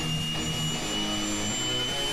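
Six rocket engines fire together in a space-program video game, producing a steady, roaring jet-like drone with a thin high whine running over it, constant in level and without speech.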